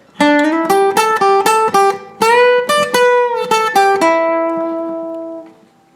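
Third section of a song on a bright clean guitar: a brisk run of plucked notes sliding up the neck, ending on a sustained ringing note that fades away.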